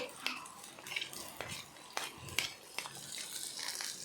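Chopped ginger and garlic are stirred in a pan of mustard oil, giving quiet, repeated scrapes and light clinks of a utensil over a faint background hiss.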